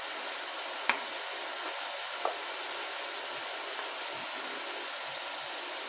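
A tomato and garlic masala cooking in a pan gives a soft, steady frying hiss, with a couple of faint clicks from the pan; no one talks.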